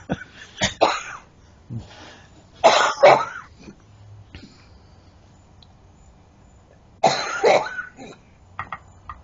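A person coughs in several harsh, rasping bursts with short quiet gaps between them, close and fairly loud, with a heavy fit of hacking near the middle and again toward the end.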